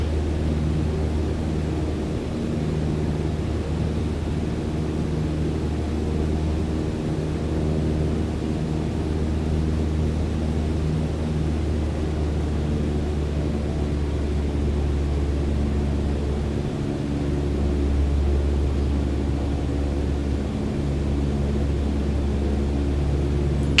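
A light aircraft engine in Microsoft Flight Simulator 2020 during a slow descent with throttle eased back, a constant droning hum under broadband wind noise, level and unbroken throughout.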